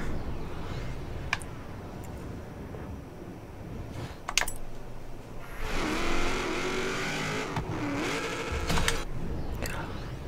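Muscle car accelerating in the racing game Forza Horizon 3, its engine tone rising and falling over a steady background with a few sharp clicks, fairly faint throughout.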